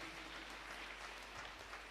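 An audience at a church book launch gives sustained applause, a dense, even wash of clapping at a moderate distance with no break.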